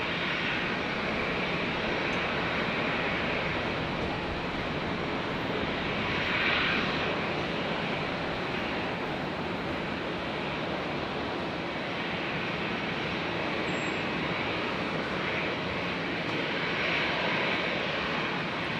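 A 32-year-old Boeing 767 arrives at Brisbane airport from Port Moresby, its engines a steady, moderately distant roar that swells slightly midway and keeps rumbling throughout without voices.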